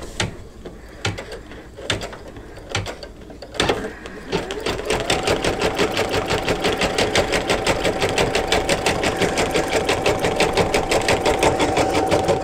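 An embroidery machine stitches with metallic silver thread on an in-the-hoop mug rug. A few sparse clicks lead into a steady, fast mechanical rattle of needle strokes that runs on evenly and close by.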